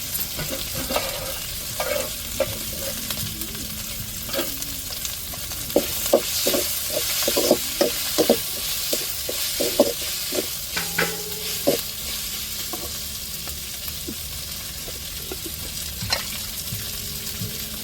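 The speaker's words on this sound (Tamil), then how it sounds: "புதினா மல்லி இலையை அப்படியே வதக்கி விட்ருவோம் எண்ணெயிலேயே" Mint and coriander leaves sautéed in hot oil in a pan, a soft continuous sizzle under repeated scraping and stirring strokes with the spoon, moderately quiet throughout.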